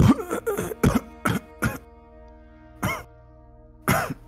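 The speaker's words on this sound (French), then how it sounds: "Tu vois qu'elle tousse, elle se serre un peu la gorge." A woman coughs in several short bursts, a cluster at first, then two more isolated coughs after a pause, over a steady faint hum.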